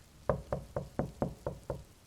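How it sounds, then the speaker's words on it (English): Knocking on a door, seven evenly spaced raps in a steady rhythm, clear and fairly close with no talking over them. "almost made us miss the knock at the door"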